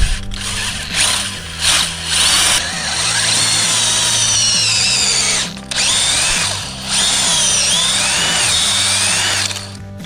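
A power drill whines steadily and loudly up close, its pitch dipping and surging as it bores about two inches into a living tree trunk for syrup tapping, with a few short pauses.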